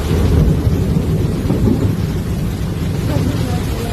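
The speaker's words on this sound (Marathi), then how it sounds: "वारं तसंच, पाऊस तसंच, विजांचा कडकडाटही तसंच." A thunderstorm with heavy rain and wind, loud continuous rumbling thunder filling the whole stretch as a dense, roaring wash of noise.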